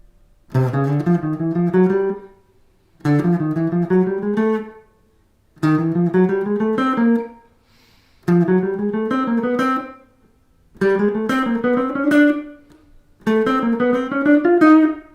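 Barry Harris's chromatic scale voiced in triads rings out as six ascending runs of stacked chord tones, each about two seconds long, separated by short gaps, close and clear with no speech.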